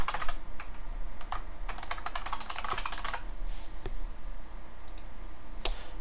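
Quick bursts of clicky keystrokes on a computer keyboard, a dense flurry of typing followed by a few scattered taps, close and clear with no talking.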